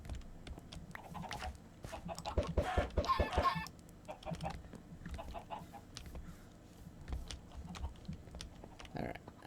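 Chickens clucking in the Minecraft video game, short bird calls scattered through the clip alongside quick keyboard clicking and bursts of talk from a player.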